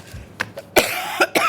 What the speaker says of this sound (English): Sorry for my cough, everybody,